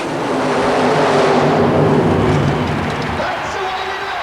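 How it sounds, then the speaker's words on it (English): A fuel-injected small block Chevrolet engine in a fiberglass Jeep CJ funny car mud racer roars loudly at a 1991 super modified mud race in Oklahoma City, then fades, with an announcer talking over it. "It's a fuel-injected small block Chevrolet engine in the Expect No Mercy fiberglass Jeep CJ Funny Car."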